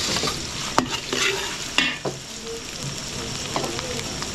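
Garlic, onion and ginger fry in a pan for buro, giving a close, busy sizzle broken by sharp utensil knocks and scraping stirs.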